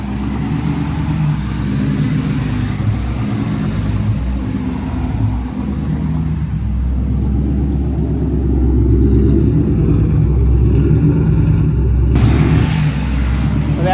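A car engine idles after a head gasket reinstall, a loud, close, steady low rumble with a pulsing rhythm that grows slightly fuller toward the end without any revving.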